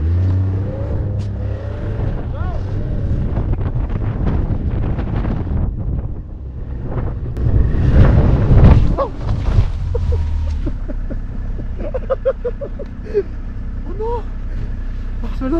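Snowmobiles driving across snowy Lapland terrain, a steady close engine drone mixed with heavy wind buffeting on the microphone, with a louder revving surge partway through.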